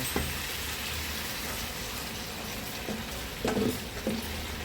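Tomato and kamyas cook in a pan with broth added, a steady sizzle and bubbling throughout with a couple of brief stirring clinks, at moderate volume and with no voices.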